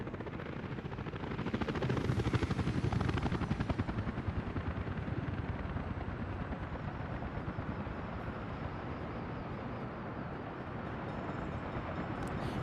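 Helicopter rotor and engine drone in the city-building game Workers & Resources: Soviet Republic, a steady dense whir that swells early and then holds at a constant level, with no voices.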